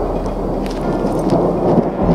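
Steady, dense rain falls straight down in windless weather at a tent campsite, roaring close by without a break, a broad wash of noise with faint rumbling underneath and no voices.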